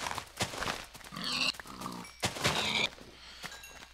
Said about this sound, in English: Oh look, tons of pigs.